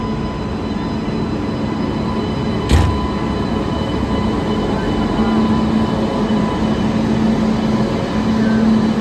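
A Marudhar Express (14853) passenger train stands at its starting station platform, giving a steady low rumble and hum with one brief thump partway through and no talk.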